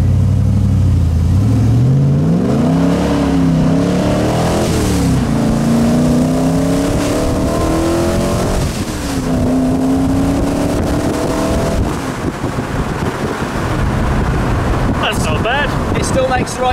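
Car with a carbureted 3.5-litre Rover V8 accelerating on a road, a loud, close engine note rising and falling through the revs with heavy wind rumble throughout.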